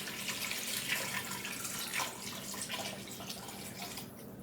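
Four cups of water poured into a soup pot for chickpea potato soup, a steady splashing, gurgling stream that runs the whole time and eases off at the end.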